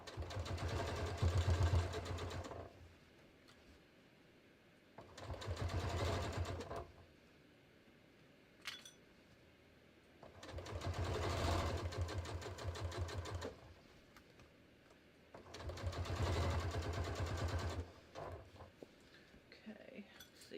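A sewing machine stitches a jeans hem in four separate runs of steady, rapid mechanical whirring, with quiet pauses between them.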